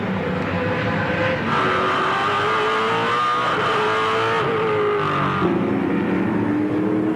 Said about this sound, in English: they build speed back up to 250 kilometres an hour on this 3rd turn